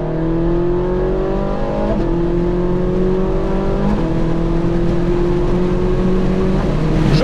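A Ferrari 458 Spider engine revs up loudly and steadily, pitch climbing then dropping at each of several automatic gear shifts, close and continuous with no voices.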